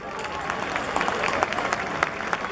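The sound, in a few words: audience applause at a music ceremony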